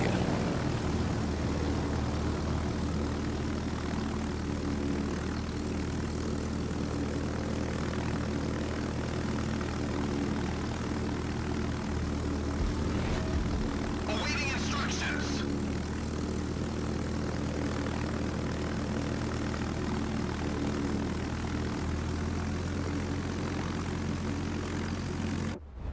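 Steady propeller aircraft engine drone in World of Warships during a ranked battle in a Tier 10 USS Franklin D. Roosevelt carrier, a continuous loud hum that holds for the whole stretch with no speech.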